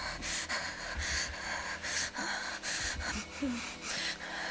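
Someone takes rapid, shaky deep breaths in a tense moment, a close series of short gasping inhales and exhales in uneven rhythm, with faint background noise and no clear speech.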